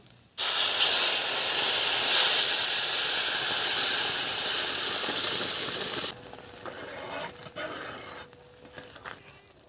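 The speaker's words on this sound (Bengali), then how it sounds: "এবারে দিয়ে দিচ্ছি জিরে, দিয়ে দিলাম তেজপাতা ফোড়নে, দিয়ে দেব ডাল" Dal poured into hot oil tempered with cumin and bay leaf erupts in a loud, close hissing sizzle that holds for about six seconds, then drops to quieter bubbling with faint stirring clatter.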